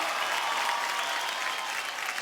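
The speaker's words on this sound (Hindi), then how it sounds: "बहुत बहुत तालियां हमारी छोटी फलक के लिए, आपने बहुत अच्छा परफॉर्म किया।" A studio audience on a televised junior dance competition applauds after a child's dance performance, a dense, steady burst of clapping that fills the moment without any speech.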